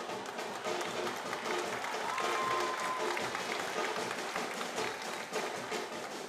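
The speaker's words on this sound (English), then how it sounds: "Round of applause, because this man, the captain, Ryan Mendes, is back on the field of play" Stadium crowd applauds at a World Cup qualifier football match between Cape Verde and Central African Republic, a distant, rain-like wash of clapping and crowd noise that is steady and fairly faint.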